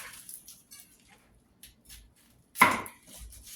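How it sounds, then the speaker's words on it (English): A knife chops through a red onion on a board, one sharp, close cut standing out after a quiet stretch with faint background sounds. "We're going to chop up this red onion."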